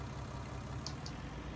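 A tractor engine idles in the Farming Simulator 19 video game, a faint, steady low rumble that runs throughout, with two tiny high clicks partway through.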